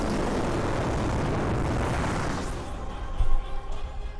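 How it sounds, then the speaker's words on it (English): Explosion during a battle in the video game Pokémon Shield: a loud, sustained broadband roar for about two and a half seconds, fading into a rumbling tail with a short thump near the end. "Oh, that explosion sound."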